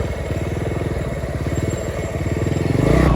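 A motorcycle engine runs steadily while riding along a road toward Kotla Mughlan and Jampur, a close, rhythmic mid-pitched thrum with a rising swell near the end.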